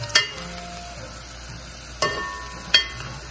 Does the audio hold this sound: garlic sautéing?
yes